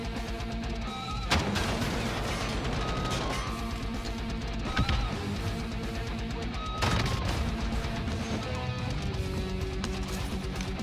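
Origin 12 semi-automatic shotgun firing in close quarters in Call of Duty Warzone, with several sharp booming blasts spaced a few seconds apart over a busy layer of game sound.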